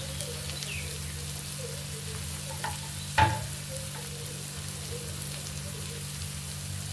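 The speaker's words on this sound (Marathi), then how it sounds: "थोडंसं मीठ घातलं की कांदा लवकर परतला जातो," Onion frying with salt on a tawa: a steady, even sizzle running throughout, with one brief clatter of stirring midway and no talking.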